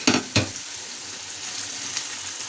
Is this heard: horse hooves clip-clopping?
no